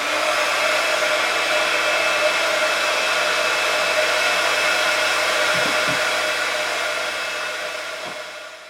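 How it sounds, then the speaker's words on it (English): A heat gun drying napkin decoupage on a bottle blows a steady, loud, continuous whirring hiss that holds evenly before tapering slightly at the end, with a few faint knocks underneath. "I'm going to use the heat gun again to speed up the process of drying."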